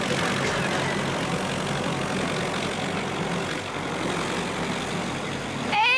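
A tractor engine runs steadily in a farm field, a loud, continuous rumbling drone with no pauses, alone without talk.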